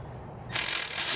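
A ratchet tightens the alternator on a 2009 Toyota Corolla, a sudden close rasping mechanical burst that follows a moment of near quiet.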